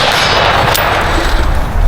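A single rifle shot at a shooting practice range, one sharp broadband crack near the middle of the clip over steady loud background noise.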